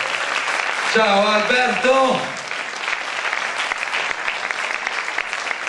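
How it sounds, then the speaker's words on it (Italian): A live audience at a tribute show claps in welcome for the singer, a sustained round of applause with a voice calling out a greeting over it near the start. "Grande applauso, eccolo qua."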